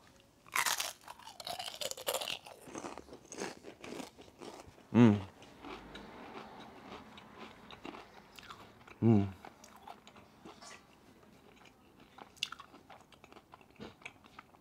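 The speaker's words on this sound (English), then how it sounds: "let's go ahead and listen to that crunch" Loud crisp crunches of homemade sour cream and onion potato chips being bitten, a few distinct bites spaced apart, followed by quieter chewing up close.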